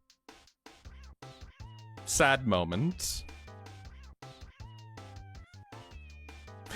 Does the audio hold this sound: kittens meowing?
yes